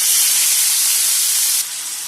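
Cabbage dropped into hot coconut oil in a pan for Kerala-style cabbage thoran, after mustard seeds have popped; a loud, steady sizzle and hiss that drops slightly in level near the end, with no talking.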